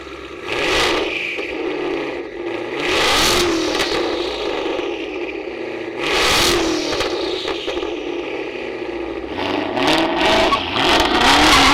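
A turbocharged 1,000-horsepower Ford Mustang engine roars through repeated loud revs, rising and falling in surges over a rumbling idle, close by.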